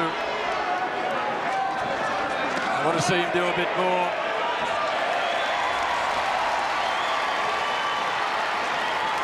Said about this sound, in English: Crowd urging the Aussie on.